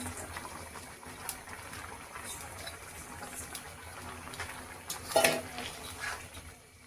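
Small fried fish go into a simmering curry of potato and thankuni greens, with soft bubbling, light clinks of utensil on pot and a brief louder clatter midway, faint and close, without talk.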